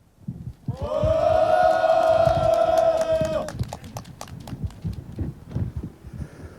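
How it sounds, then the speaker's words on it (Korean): A crowd at an outdoor press conference on regional broadcasting budgets lets out a loud sustained collective shout lasting a few seconds, followed by scattered clapping and cheering that trails off. "큰 함성과 함께 시작하도록"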